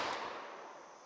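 A single gunshot from a .327 Federal Magnum snub-nose revolver, heard as one sharp blast that rings out and decays across about a second, with no talking.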